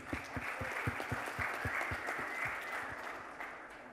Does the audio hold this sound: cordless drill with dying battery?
no